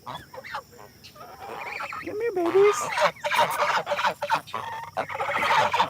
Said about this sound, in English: Yes, definitely a gaggle of geese.